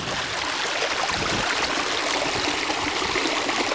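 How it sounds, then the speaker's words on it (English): Water from a spring-fed pond gurgles and rushes steadily nearby, a continuous close hiss and bubbling with no voices. "You can hear the water gurgling."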